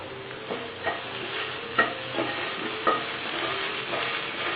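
A spoon stirs potato fry in a pan with soft scraping strokes every second or so, over a continuous close sizzle of frying, with no voices.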